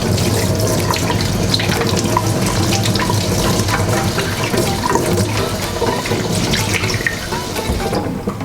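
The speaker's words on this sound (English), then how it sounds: "The first thing you want to do is you want to wash the plantain." Water runs loudly and steadily from a kitchen tap while plantain is rinsed under it, a close continuous splashing rush that carries on for the whole stretch with no voices.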